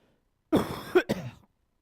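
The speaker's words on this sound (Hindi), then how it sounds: "सॉरी मुझे थोड़ी खांसी है" A man coughs during a lecture, a single close, harsh throat-clearing cough in two quick bursts, then silence.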